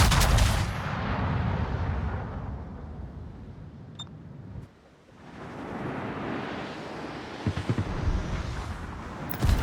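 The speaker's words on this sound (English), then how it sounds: "so I fired another salvo at him." Heavy naval gun salvos from the Chinese cruiser Sun Yat-Sen in World of Warships boom loudly in sustained, rumbling bursts, with a short lull midway before more rolling gunfire and explosions follow, with no talk.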